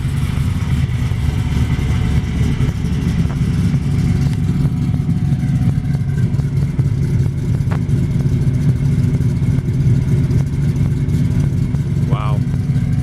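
A 1955 Chevrolet 210 with a 427 V8 engine rumbles steadily at idle, a deep, continuous low drone close to the microphone with slight rhythmic pulsing throughout.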